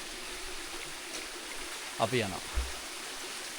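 Stream water flows steadily through Knuckles forest in Sri Lanka, a continuous soft rush, with a person briefly speaking over it partway through.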